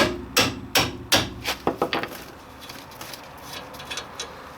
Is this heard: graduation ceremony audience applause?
no